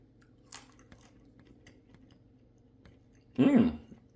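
A single close crunch of someone biting into crispy roasted pumpkin seeds comes near the end, after a faint earlier click over a quiet background hum.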